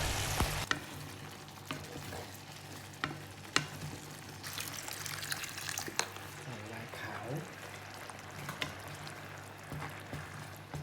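Steady sizzling of rice cooking risotto-style in a hot frying pan, with occasional sharp clinks and scraping stirs over a constant low hum.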